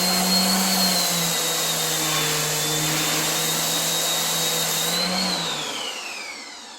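An electric sander runs on a DeWalt DXAEPS14 power station with a loud, steady motor whine and hum. Its pitch dips and rises slightly before the sound winds down and fades.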